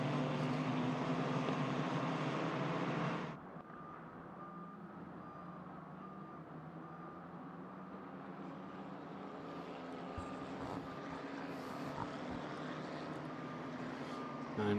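Repeated reversing beeps from JCB construction vehicles at a Barcelona race circuit during a safety car period, a steady tonal pulse heard at a distance over continuous background rumble and machinery noise.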